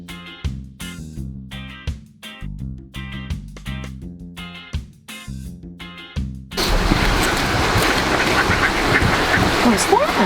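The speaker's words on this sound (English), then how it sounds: "It's what's called a duck, Margaux." Ducks being fed, giving a run of loud, repeated nasal quacks in quick bursts, then a noisy, dense flurry of flapping and splashing commotion close by.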